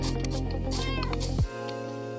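A cat meows once in a Minecraft world, a short rising call layered over steady background game music and ambience, with a brief low thump near the end.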